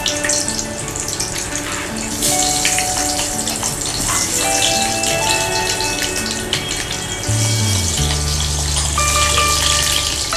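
Potato and capsicum fry lightly in hot oil in a kitchen, giving a steady sizzle and crackle throughout, with clinking and a low humming appliance-like drone near the end.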